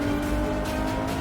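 Open-top Ferrari Monza SP2 engine revving hard, a loud, dense roar with steady harmonic drone and rising revs, close and continuous with no talking over it.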